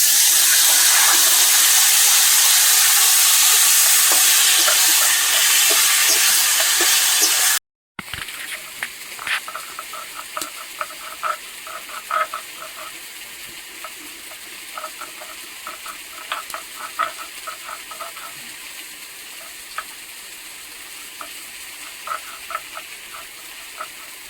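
Tender greens tipped into a pan of fried onion, garlic and spices, giving a soft, crackling sizzle with scattered pops and stirring noises after a loud rush of hot oil just before.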